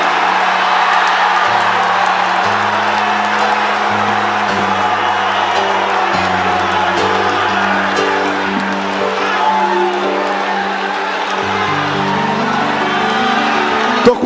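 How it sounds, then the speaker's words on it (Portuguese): Church congregation responding to a preacher with a shout of glory, a sustained loud crowd roar of voices and cheering, with held organ or keyboard tones underneath. "Quem acredita nisso, dê um grito de glória."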